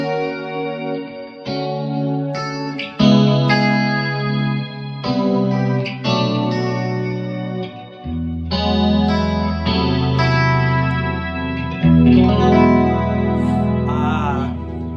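A left-handed 2005 Mexican-made Fender Stratocaster played through a Music Man RP112 amp, with chorus-like effect and sustained chords and melodic phrases ringing clearly for the whole stretch, loud and close, with no talking.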